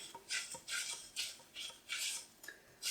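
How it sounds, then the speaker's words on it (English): Caster sugar and sugars being stirred in a pan to melt, a steady run of close, gritty scraping strokes about twice a second, each a short rasp of the spoon across the pan, with no voices. "we'll start giving that a bit of a mix round just to get those sugars melting"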